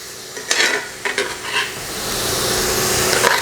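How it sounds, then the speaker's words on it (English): Steak chili being stirred in a pot with chili powder and cumin seeds, a few scraping stirs over a steady sizzling frying hiss that grows louder and continuous toward the end. "we're going to give this bad baby a good mix"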